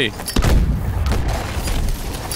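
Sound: smart grenade explosion in video game Call of Duty: Advanced Warfare

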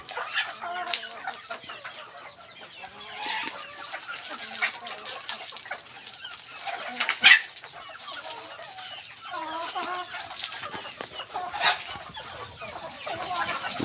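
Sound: decoy rooster crowing and clucking

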